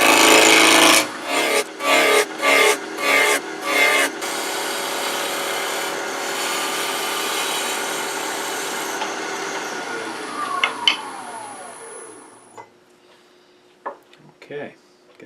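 A chisel cutting a spinning wood blank on a lathe as it is rounded out, starting with loud rhythmic scraping bursts, then a steady grinding rasp that fades as the tool lifts off, with a few scattered knocks after.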